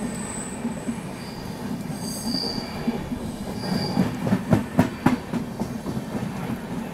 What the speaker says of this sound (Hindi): ये देखो कैपिटल एक्सप्रेस हमें ओवरटेक कर रही है यहाँ पे